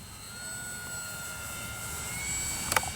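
An X-Fly Spitfire RC model warbird flies a low, slow pass, giving a steady continuous motor whine with a faint high tone throughout, ending in a couple of brief sharp clicks near the end.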